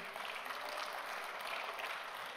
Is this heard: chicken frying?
no